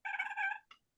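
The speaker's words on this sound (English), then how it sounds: "he's over there with his Easy Yelper going, making it purr." A short, raspy rolling purr from an Easy Yelper turkey call, trilling for about half a second, then a brief second chirp, close and clear.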